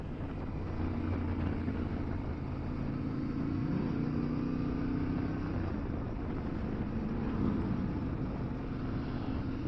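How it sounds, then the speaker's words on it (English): Cars rolling through a large car show in upstate New York, their engines blending into a steady, continuous low rumble with slow drifting tones as vehicles pass, with no talking. "getting ready to watch some cars roll through"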